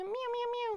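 A person's voice imitates a cat meowing, one drawn-out, close and clear meow-like call with a smooth rising and falling pitch.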